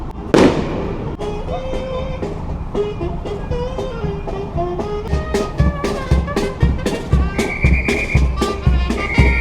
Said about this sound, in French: C'est ça que je pense qu'il faut péter les pétards.